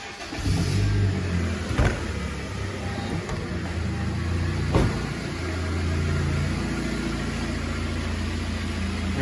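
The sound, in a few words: Kia Sorento 2.4 engine starting and running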